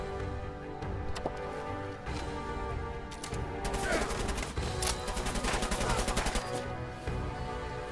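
Gunfire in the video game Fallout 4, with sparse single cracks at first, then a dense run of rapid repeated shots mid-clip that trails off, over a steady background game soundtrack.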